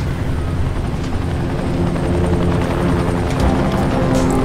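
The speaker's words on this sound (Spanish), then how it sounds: "Y ahí está el helicóptero de salida" In the video game Dying Light, the exit helicopter roars loudly and continuously, its rotor chop and engine drone filling the whole stretch without pause.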